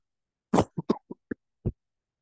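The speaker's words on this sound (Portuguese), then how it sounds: "Desculpa, pessoal, tosse" A series of short, sharp coughs from one person indoors, a strong first burst followed by several smaller ones in an uneven rhythm, close and clear against silence.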